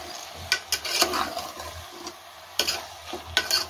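Mutton goes into a Chettinad gravy and is sautéed in its own fat. Scraping stirs with sharp clinks of a spoon against the pan sound over a soft sizzle, close up and without speech.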